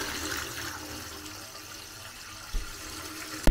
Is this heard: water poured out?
yes